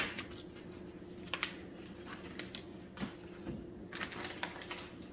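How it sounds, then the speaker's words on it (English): Knife cutting bacon slices into small pieces, a quiet series of irregular crisp taps and chops against a board, close up, with no talking. "I'm going to cut this down into small pieces"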